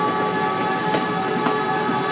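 A commuter train rolls into North Station with a steady rumbling roar and a sustained tonal hum, close by, with faint clanks partway through and no talk.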